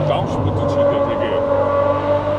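A car engine revs hard on a downshift, a loud, steady mechanical drone with a strong tonal whine that holds for a couple of seconds close to the microphone, with a voice speaking briefly over the start.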